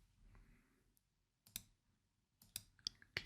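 Computer mouse clicks sound close and crisp: a couple of sharp clicks mid-way, then a quick cluster of several more toward the end, separated by near silence and no speech.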